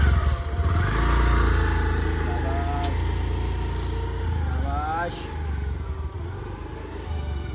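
A Honda Activa scooter engine being revved, a loud close buzzing drone that rises and falls in pitch across several throttle blips, with people talking over it.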